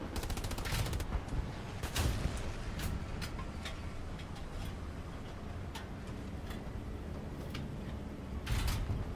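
Bombing run in the World War II shooter Hell Let Loose: a dense barrage of rumbling explosions and crackling gunfire, loud and continuous, with sharper bursts near the start, around two seconds and at the end.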